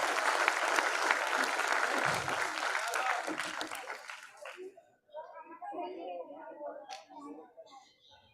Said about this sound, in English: Let's welcome him with a lot of round of applause.